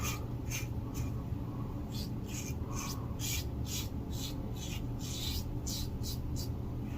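Safety razor making light buffing strokes across lathered stubble during a wet shave, a quiet rhythmic series of short rasping scrapes, close and alone.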